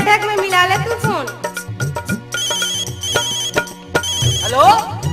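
Telephone ringtone ringing inside a Haryanavi folk song, a repeated bright electronic ring pattern over rhythmic music with a voice singing around it.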